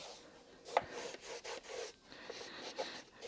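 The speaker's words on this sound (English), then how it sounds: "Let's get some of this grime off." Grime being scrubbed off the chassis of a Gorilla GG-25 guitar amplifier: close, uneven rubbing and rasping strokes with a couple of sharper knocks, moderately quiet and with no talk over it.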